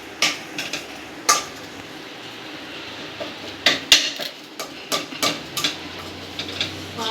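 A utensil stirs rice and oil in a pan, making intermittent scraping and clinking knocks against the metal, close and moderately loud, with no talk.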